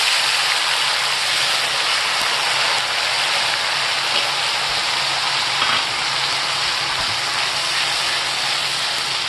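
Ginger-garlic paste for a fish curry sizzles in a pan over a high flame, giving a steady, dense crackling hiss with no talking.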